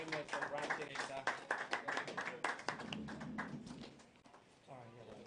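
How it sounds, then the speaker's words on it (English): Applause from a filmmaking workshop audience for a speaker: dense, steady clapping mixed with talking voices, loud at first and tapering slightly toward the end. "Please, let's give him a round of applause."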